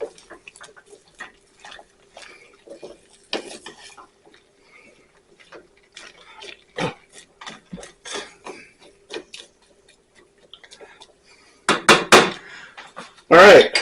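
Cream of asparagus soup stirred in a pot in a home kitchen, with scattered soft clinks and scrapes of a utensil against the pot, a few louder metallic knocks near the end.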